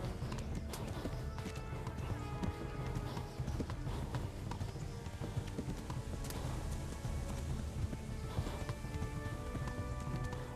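Horse hooves clopping in the medieval video game Kingdom Come: Deliverance, a steady rhythmic beat running through the whole stretch under a dense, busy game soundscape.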